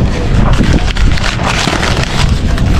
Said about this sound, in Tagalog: Mahangin po dito sa amin.